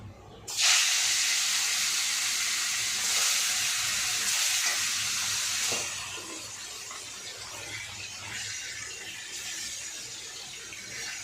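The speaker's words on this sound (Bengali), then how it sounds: "আমার তেলটা গরম হয়ে গেছে আমি এবার মাছগুলো ভেজে দেবো" Hilsa fish slides into hot oil for frying, setting off a sudden loud, close hiss that holds steady for several seconds, then settles into a softer, continuous sizzle.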